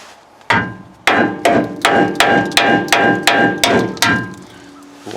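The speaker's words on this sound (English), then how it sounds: "Try and tap it evenly." A hammer taps a Nissan Titan transmission mount into place, about nine sharp, evenly spaced metallic blows in a steady rhythm, close and loud, with no talking.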